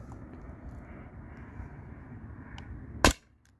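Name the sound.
Beeman BP50 CO2 air pistol firing steel balls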